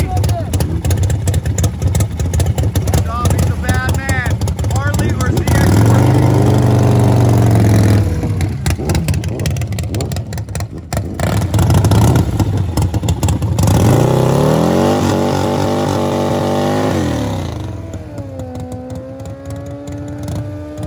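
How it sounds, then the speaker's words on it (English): A Harley-Davidson bagger drag bike races a Kawasaki ZX14 at a drag racing event. Loud engines rev and rise in pitch through repeated accelerations, with a crowd and an announcer talking over them. "Kadafe, it's his event, and he's clutch racing a ZX14."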